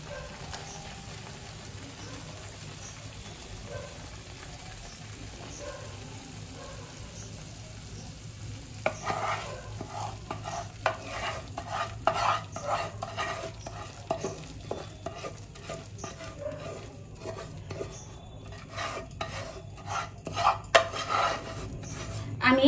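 A pan of hot semolina milk cake, just off the gas, is shaken and worked, making a faint soft rubbing and scraping rattle that grows busier and more rhythmic in the second half, with no voices.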